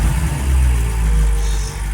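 A BMW F8X with catless downpipes idles loudly right after startup, a deep, rumbling, slightly uneven exhaust drone held close for a couple of seconds with no talking.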